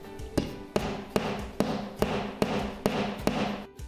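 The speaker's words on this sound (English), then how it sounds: "take your nail and put it where the precise anchor location number 1 is" Steady hammer blows on a nail into a wall, about nine evenly spaced strikes, close and sharp, with no talking.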